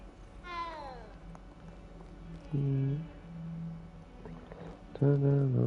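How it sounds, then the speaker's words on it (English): Cat meowing in the video game Hogwarts Legacy: a drawn-out rising-falling meow, then two shorter mid-pitched meows a few seconds apart, fairly close over a steady game ambience. "Kitty cat."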